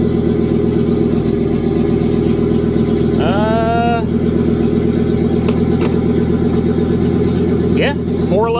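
An RV engine with 310,000 miles idles steadily and close while being shifted into gear, a constant low drone throughout, with people's voices briefly rising over it.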